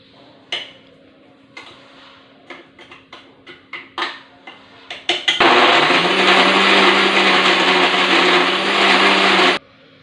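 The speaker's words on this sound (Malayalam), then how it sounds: "മിക്സി കുറേശ്ശെ അല്പായിട്ടിട്ടാണ് അടിക്കാൻ പാടുള്ളൂ." Peanuts ground with olive oil in a mixer grinder: a few short knocks and clatters, then a loud, steady whine of the motor running for about four seconds before it abruptly stops.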